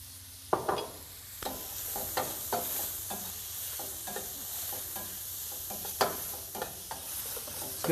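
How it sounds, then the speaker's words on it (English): Sliced meat and peppers for a cheesesteak being tossed and scraped together in a hot pan, a soft sizzle under repeated sharp clacks and scrapes of a utensil. "I mix the meat and the peppers together"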